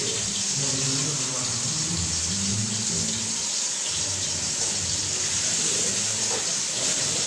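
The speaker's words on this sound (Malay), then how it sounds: "saya akan tambahkan sedikit air" Water pours and splashes steadily into a cooking pot of chicken in soy sauce for several seconds, a continuous close gushing rush with faint background murmur.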